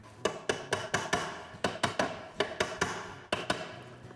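A gearbox input shaft is tapped into place during a rebuild, about fifteen sharp, close metallic taps in a quick, slightly uneven rhythm with short pauses.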